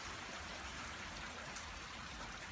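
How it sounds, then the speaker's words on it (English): Heavy rain falling outside during a storm, a steady, dense hiss of downpour with no pauses, fairly quiet and with no voices. "It's at least raining super heavily, as you saw."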